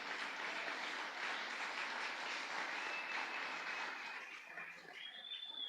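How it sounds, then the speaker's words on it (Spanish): Church congregation applauding during a Spanish-language sermon, a fairly faint, sustained patter of clapping that thins and fades over the final second. "Dele ese aplauso al Señor."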